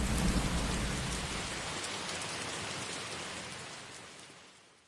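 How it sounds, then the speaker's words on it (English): Steady rain falls throughout, dense and hissing, heaviest at the start and easing slightly toward the end, with no voices. "This rain seems like it will never stop."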